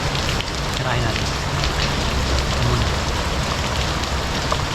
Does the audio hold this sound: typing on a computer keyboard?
no